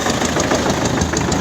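Close, loud idle of an MTZ tractor's black engine, a continuous diesel chug with quick regular knocking pulses and no voices over it.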